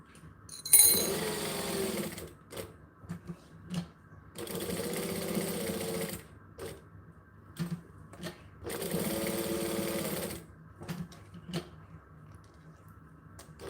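A sewing machine runs in three distinct sustained bursts separated by pauses filled with small clicks and handling sounds, close and moderately loud.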